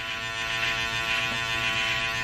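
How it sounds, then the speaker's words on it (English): Remington electric shaver running over a beard, a steady close buzzing drone with a slight shift in tone as it passes across the stubble. "I do have a Remington shaver, which I'll go over everything that I shaved off just to get that more smooth"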